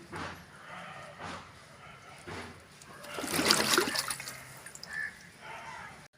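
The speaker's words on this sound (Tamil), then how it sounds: "இதே போல் எல்லா கிழங்கையும் சுத்தமாக கழுவிட்டு கொஞ்சமாக கட் பண்ணி எடுத்துடலாம்" Palmyra sprouts washed by hand in water, with soft splashing and trickling that swells to a louder slosh midway, then settles into quieter dribbles and drips.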